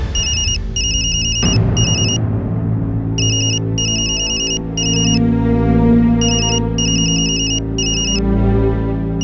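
A telephone rings loudly in repeated bursts of electronic trilling, sounding over a steady bed of dramatic background music in a Hindi TV serial scene.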